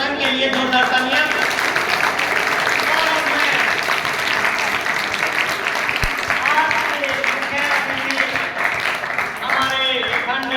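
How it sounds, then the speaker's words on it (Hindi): Loud, close applause from an audience at an award ceremony honouring a Haryana state teacher, steady dense clapping throughout with crowd voices murmuring underneath. "एक बार स्वयं के लिए जोरदार तालियां।"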